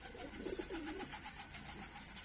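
Fighting pigeons of a shaggy-footed breed coo softly in a loft, with a short rolling coo near the start and low-level bird chatter and ambient noise underneath, no one speaking.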